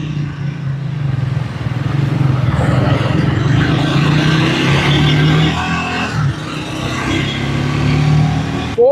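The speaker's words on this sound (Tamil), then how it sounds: "சரி வாங்க இந்த ட்ரையம்ஃப் ஸ்பீட் 400 ஒரு ரைடு எடுத்து பார்த்துருவோம்" A Triumph Speed 400 motorcycle pulling away in first gear, its engine a loud, close, continuous rumble that rises and holds steady while the bike rides off.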